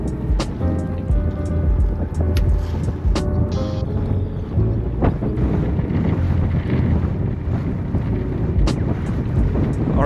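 Sailboat motoring out of a marina, a steady low engine drone mixed with wind buffeting the microphone and water wash, with a few sharp knocks and clanks on board.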